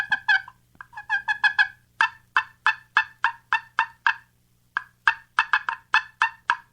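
A friction turkey call imitates soft hen cooing and clucking in short, rhythmic bursts of bright yelps, repeated steadily with brief pauses, close up and clear with no talking.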